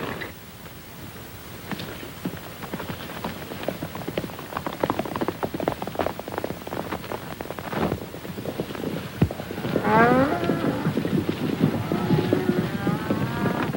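Cattle being driven on a Western frontier range, with several low moos rising over a continuous background of hoof clatter and herd movement, at moderate distance and without speech.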